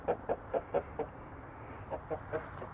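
A broody hen clucks in a homestead chicken yard, a quick run of five soft, evenly spaced clucks, a short pause, then four more, moderately close and fairly quiet.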